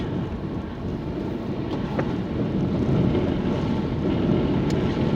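Storm waves crash and splash over a coastal road, a steady, loud rush of surf and water churning under strong gusting wind noise that builds slightly midway.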